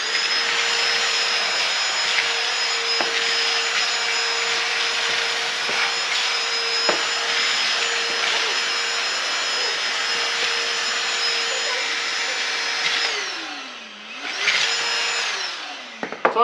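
A DeWalt cordless stick vacuum cleaner runs loud and close with a steady high-pitched motor whine and airy rush, holding constant before briefly dipping in pitch and revving back up near the end.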